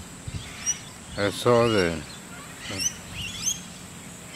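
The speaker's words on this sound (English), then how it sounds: "These are short-billed Corellas" Short-billed corellas give brief, scattered calls in Moorooka, Australia, heard under and between a person speaking close by.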